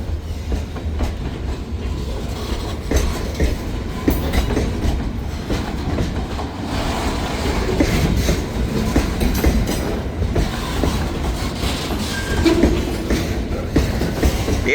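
A freight train rolls steadily past nearby, its wheels clacking rhythmically over rail joints as the rumble holds at a fairly constant level for the whole stretch, with no voices.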